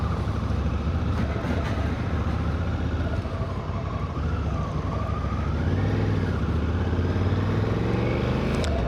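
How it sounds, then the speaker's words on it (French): A Honda CRF 1100L Africa Twin, 2026 model, rides on the road on a test ride. Its engine drones steadily under loud wind rush, and the pitch rises and falls as the bike accelerates and shifts. "on est parti en Africa Twin 1100"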